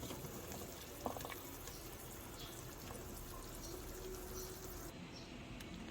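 Nilagang pata, a pork hock stew, boils in a pot with a steady, even bubbling and hiss that carries on without pause and with no voices.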